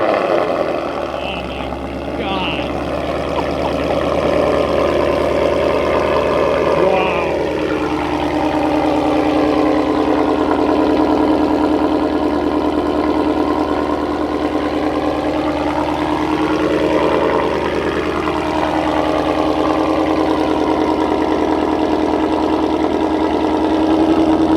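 A supercharged Ford Mustang with a Corsa Xtreme exhaust idles loud and close, a deep steady rumble with a couple of slow rev swells rising and falling over the drone.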